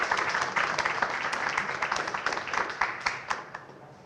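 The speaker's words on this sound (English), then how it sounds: "One more round of applause" Applause after a community planning studio presentation, a full room of clapping that starts dense and steady, then thins into scattered separate claps as it winds down over four seconds.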